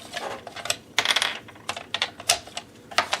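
Scissors snip through scored paper while a box is made for a shabby-chic vintage camera craft. Crisp, close cuts come in separate clicks at irregular intervals over a quiet background.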